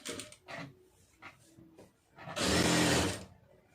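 A sewing machine stitches the seam of a lining blouse, with a few light clicks and taps of handling followed by one short, close burst of machine whir lasting under a second.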